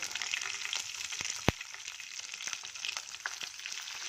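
Cashew pieces and green chillies fry quietly in a pan, giving a faint steady sizzle with scattered small pops and one sharper crackle.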